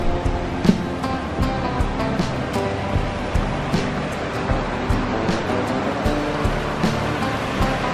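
Water flows steadily outdoors near Sedona's red rocks, a broad continuous rushing wash heard at moderate distance, with faint scattered clicks and small sounds over it and no speech.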